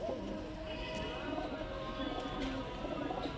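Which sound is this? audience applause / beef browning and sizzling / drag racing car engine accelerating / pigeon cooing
pigeon cooing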